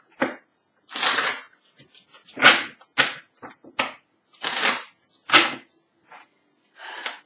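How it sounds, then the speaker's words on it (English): Tarot cards are shuffled by hand in a series of crisp riffling bursts, about eight short rustling flurries with brief pauses between them. The sound is close and quiet, with no talking. "Let me go ahead and shuffle this."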